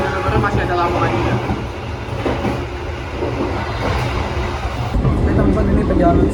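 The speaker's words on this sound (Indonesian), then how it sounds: "ini perjalanan saya naik kereta api Sembrani kelas luxury sudah dapat di stasiun Bojonegoro" Indonesian Sembrani luxury-class passenger train running near Bojonegoro station, a loud continuous rumble of wheels and carriage noise heard from inside, with a shift in tone partway through.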